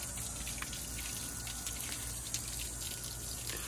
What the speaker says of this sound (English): I've got the water hose going full blast.